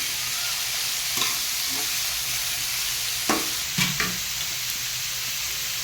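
Onions frying with a splash of vinegar in a pan, giving a loud, steady hiss and sizzle throughout, with a few brief stirring knocks near the end.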